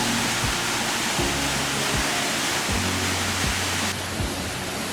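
The Elong Tune waterfall, fed by water flowing down from Mount Rinjani, roars as a dense, constant rush of falling water that stays loud and unbroken throughout, with no voices.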